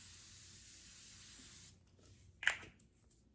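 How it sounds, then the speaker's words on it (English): A Morphe Life Proof Mini Continuous Setting Spray lets out one short, soft hiss of mist near the end, after a stretch of faint background quiet. "The Morphe Life Proof Mini Continuous Setting Spray."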